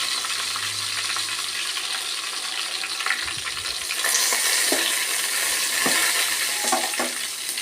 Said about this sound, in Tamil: எண்ணெய் நல்லா சூடானதுக்கப்புறம் 2 கொத்து கருவேப்பிலை, கருவேப்பிலை நல்லா பொரிஞ்சதுக்கப்புறம் ஒரு காஞ்ச மிளகாவை 3ஆக பிச்சு வச்சுருங்க.